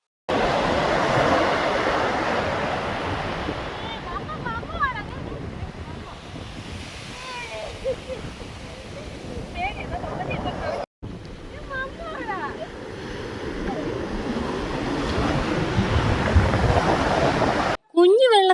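Sea waves wash steadily onto a Kerala beach, a broad continuous roar of surf with wind buffeting the microphone, briefly cut off once and again at the very end.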